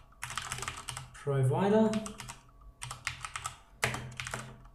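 Computer keyboard keys clatter in quick, uneven bursts while code is entered for a VB.NET password hashing program, someone talking steadily over the typing.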